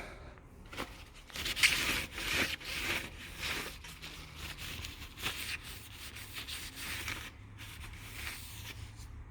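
A cloth rubs over a repaired alloy wheel in soft, irregular wiping strokes, faint and close, with light scuffs and brief pauses.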